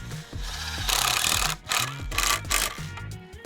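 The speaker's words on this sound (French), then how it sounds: "On positionne, c'est des vis fendues, donc on n'est pas obligé de pré-percer." Slotted screws driven by hand into a post while assembling an awning, without pre-drilling: close, irregular rasping and creaking bursts of turning screw in wood, with short pauses between strokes and no talk.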